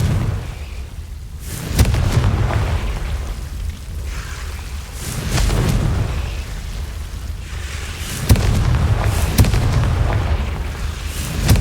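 Fiery blasts from the Confringo fire spell in the wizarding game Hogwarts Legacy, several loud booming bursts with sharp cracks spaced a few seconds apart over continuous rumbling noise.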